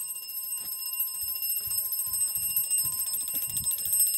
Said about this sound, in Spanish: Como pueden ver, la alarma suena.